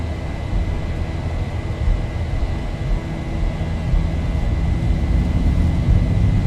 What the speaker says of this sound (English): Throttle's up to 40. And toga. Takeoff power set.